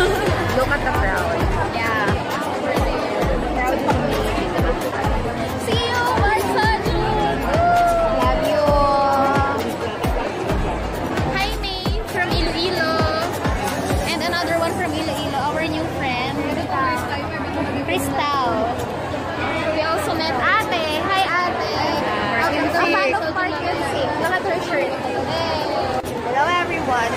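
Crowd of fans chattering while lining up at a Park Seo Jun event for Bench, a continuous babble of many overlapping voices nearby, with nearer people talking over the hubbub throughout.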